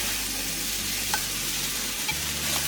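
Vegetables sautéing in a large pan over medium heat give off a steady, close sizzle with light stirring scrapes, continuous and even throughout.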